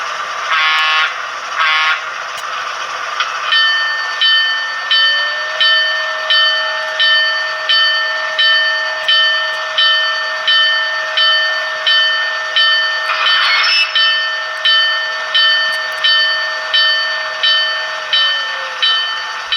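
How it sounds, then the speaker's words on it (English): A BLI Baldwin D&H RF-16 shark model locomotive sounds its horn in a couple of short blasts and then one long held blast, while its bell rings in a steady, regular rhythm, loud and close. "Let's blow the horn, sound the bell,"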